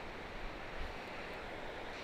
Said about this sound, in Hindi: बर्फ़ का पानी पिघल कर नीचे आ रहा है वाटरफॉल के रूप में